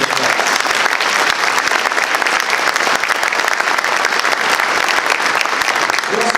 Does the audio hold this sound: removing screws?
no